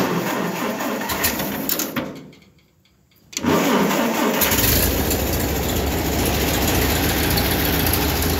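A 1940s Ford 2N tractor engine cranks, falls briefly quiet, then catches and settles into a loud, steady running rumble close by, with birds faintly audible.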